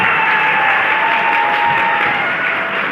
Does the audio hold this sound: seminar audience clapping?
yes